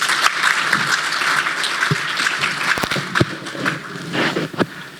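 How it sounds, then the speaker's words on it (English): Steady applause from a crowd, dense clapping throughout with a few louder sharp claps standing out. "give a round of applause to our distinguished panel"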